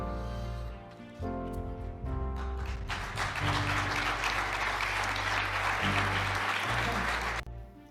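An audience applauds during Luis Rubiales' speech, a dense sustained burst of clapping that swells after a sparse start and then cuts off, with music-like low tones underneath.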